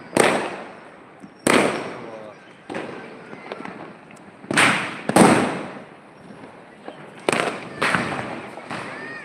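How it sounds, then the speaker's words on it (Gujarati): Firecrackers burst and rockets shoot up in a string of sharp, loud cracks, each followed by a fizzing, crackling tail, arriving irregularly about every second or two, with a voice at times underneath. "સામે ફટાકડા ફૂટે છે રોકેટ ચડી રહ્યા છે"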